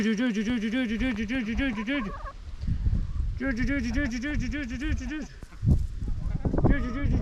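Several chickens clucking and gobbling loudly in repeated warbling bursts, with scattered rustling and footsteps in between, close by in a pasture.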